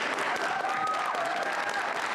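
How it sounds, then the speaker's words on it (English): An audience applauds after a presidential executive order signing on the Department of Education. The clapping is steady, dense and enthusiastic, from a crowd at moderate distance. It runs without a break and no speech is heard over it. "President Trump received enthusiastic applause after signing Thursday's executive order"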